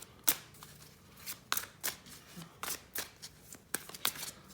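Tarot cards being shuffled for a psychic reading: quiet, crisp snaps and riffles in an irregular rhythm, close by, with no talking.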